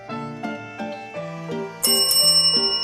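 Bright bell chimes as a notification sound effect, several quick rings in succession ending in a brighter, louder flourish of ringing.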